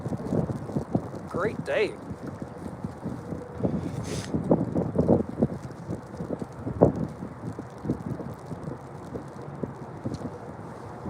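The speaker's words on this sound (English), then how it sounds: "God, you hear the wind?" Wind gusts outdoors on the water during striper fishing, buffeting the microphone in a steady rough rush, with someone talking briefly over it.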